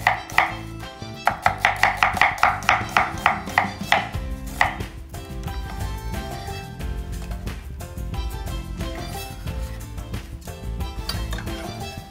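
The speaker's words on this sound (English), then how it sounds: "And then the julienne red onion." Red onion sliced into julienne strips with a knife on a board, a quick, even run of sharp chops up close that slows into softer, scattered cuts and scraping.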